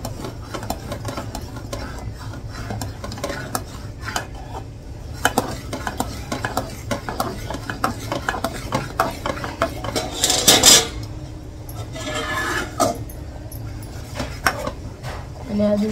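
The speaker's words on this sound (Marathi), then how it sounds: "त्याच्यामध्ये मी आता ही 1 वाटी भरून असं तांदळाचं पीठ टाकत आहे" Rice flour being stirred into a pot of boiling water for rice-flour dough, with steady scraping, clinking of utensil against the pot and bubbling, growing louder and busier near the end.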